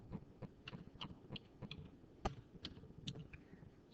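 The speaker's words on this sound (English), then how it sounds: "Of course, I was typing, just in the wrong spot." Quick, irregular keystrokes clatter on a computer keyboard, close and fairly quiet, with one louder key press partway through.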